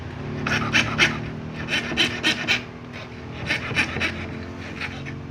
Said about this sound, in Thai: เลื่อยชิ้เส้นนะครับ ตามเส้นเลย